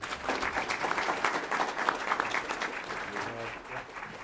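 Audience at a city council meeting applauds steadily for a few seconds, a dense patter of clapping hands that tapers slightly near the end.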